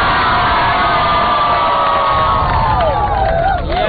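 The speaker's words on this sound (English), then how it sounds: "So let's give a round of applause for Coca-Cola." Studio audience cheering and whooping loudly and continuously, a dense crowd roar with shouted voices that holds steady throughout.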